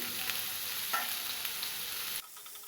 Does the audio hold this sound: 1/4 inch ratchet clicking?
no